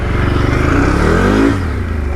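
A 4-wheel drive vehicle pushes through a muddy trail at full throttle, its engine roaring loud and close with a rising rev around the middle before easing off.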